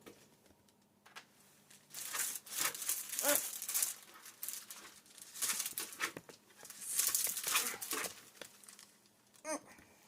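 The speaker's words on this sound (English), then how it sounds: "I'm gonna peel this plastic off" Plastic film peeled off a Traxxas Slash 4x4 VXL RC car body gives bursts of crackly crinkling and tearing, close up, coming in uneven waves for about ten seconds.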